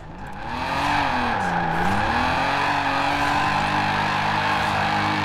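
A 1988 BMW M5 in Forza Horizon 4 held at full throttle in fourth gear, its engine a loud, steady, continuous drone with a brief pitch dip before climbing and holding high, no voices over it.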